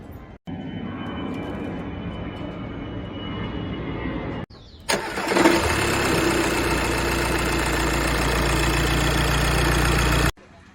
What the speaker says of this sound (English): after that let's start the car